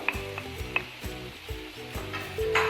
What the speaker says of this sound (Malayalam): അപ്പോൾ ഞാനിത് കുറച്ച് ചിക്കൻ കൂടി ചേർത്ത് കൊടുക്കുകയാണ്.